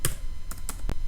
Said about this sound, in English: I am going to type